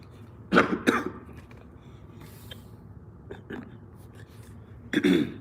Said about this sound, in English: got to clear my throat, got the little cough